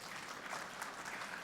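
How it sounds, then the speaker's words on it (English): Audience at an awards conclave applauding as a panel is welcomed: a brief, even wash of clapping, faint and distant, with no talk over it. "it'd be lovely if we could welcome them with a warm round of applause"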